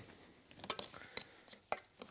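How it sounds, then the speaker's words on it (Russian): A spoon stirs and works rough, coarse mashed potato in a bowl or pot, giving soft scraping and a few sharp clinks of metal on the dish, with quiet kitchen sounds around. "Вот так вот я сейчас перемешаю."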